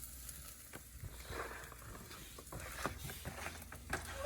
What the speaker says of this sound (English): Fry that pepper up.